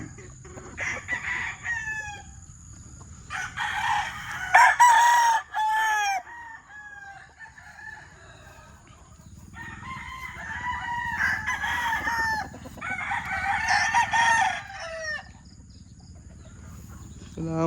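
Battle stag roosters crow repeatedly in several long, loud bursts, some overlapping, with steady insect chirping and a faint hum running underneath throughout.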